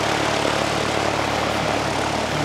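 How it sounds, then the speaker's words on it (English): A Cessna light aircraft engine drones with a steady propeller hum, loud and continuous at close range, its even tone holding throughout with no voices. "That's the Cessna down here."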